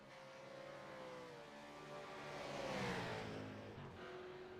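V8 race car engine in a sim racing game at Autódromo José Carlos Pace, a steady mid-distance drone that swells and fades as the car passes, with shifting pitch from revving.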